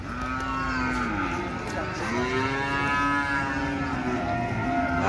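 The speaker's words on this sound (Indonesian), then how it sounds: "ini sapi-sapi" Cattle at a busy livestock market in Gamping, Yogyakarta, moo repeatedly. Several long, loud, drawn-out calls overlap one another against a steady crowd-and-yard murmur.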